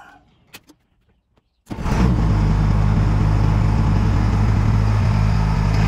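A vehicle engine cranks and starts after a few faint clicks, then settles into a loud, steady idle rumble that fills the rest of the clip.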